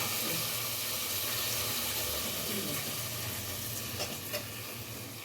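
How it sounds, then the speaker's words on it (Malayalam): Onions sautéing in ghee for a rice dish in a home kitchen, a continuous loud sizzle with occasional stirring clinks close by and no speech. "ഇവിടെ ചോറിലിടാനുള്ള ഉള്ളിയൊക്കെ വഴറ്റുന്നതേ ഉള്ളൂ."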